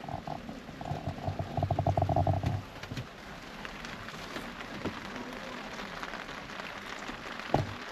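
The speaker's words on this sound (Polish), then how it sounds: "zaczął padać deszcz. I ma tak padać kilka godzin" Steady rain falling outdoors, a continuous soft hiss with scattered drips and a brief croaking frog-like burst at the start, heard alone.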